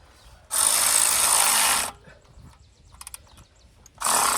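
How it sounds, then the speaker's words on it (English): A powered ratchet tightens valve cover bolts on a 2010 Kia Soul with two loud, harsh buzzing bursts. Small clicks fill the quieter gap between them. "I'm using a ratchet because I'm speeding things up"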